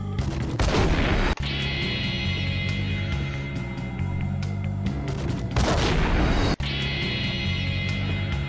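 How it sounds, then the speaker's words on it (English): Explosive projectile blasts in the 2001 video game Max Payne: two loud booming explosions a few seconds apart, each with a long rumbling tail, over a dense, continuous roar of game noise. "It's the only Max Payne game where you can get an explosive projectile."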